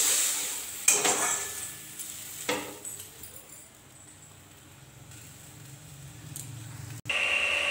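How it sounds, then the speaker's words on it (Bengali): Spice paste with a little water being fried and stirred in a pan for a Bengali bata fish curry with potatoes: a low, steady sizzle runs throughout, broken by a few clanks of a spoon against the pan. "দিয়ে ভালো করে কষিয়ে নেব।"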